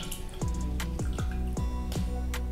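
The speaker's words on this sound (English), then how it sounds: "first ingredient we're going to be doing is 1 cup or 8 ounces of almond milk. So that's going to go right in." Almond milk glugs out of a carton into a blender in several quick, rhythmic gurgling pulses, each with a falling liquid tone, close up and with no talking.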